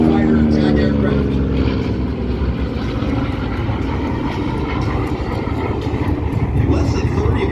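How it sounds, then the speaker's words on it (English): A U.S. Marine Corps Corsair fighter attack aircraft flies past at the Central Coast Airfest 2023 airshow, its piston engine a steady, loud drone throughout while an announcer talks over it. "Corsair from the left, folks. U.S. Marine Corps fighter attack aircraft."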